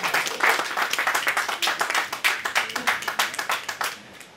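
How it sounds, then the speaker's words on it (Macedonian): An audience at a song and music-video promotion event applauds steadily and loudly for the performers, a dense, continuous clapping that holds for several seconds before tapering slightly at the end. "Ајде, аплауз им треба, да, веројатно"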